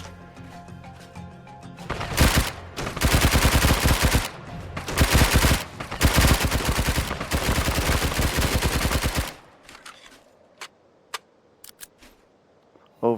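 Rapid bursts of submachine gun fire from the ARK mod Additional Munitions, several long automatic strings separated by brief pauses, then a few sparse clicks and single sharp sounds as it trails off.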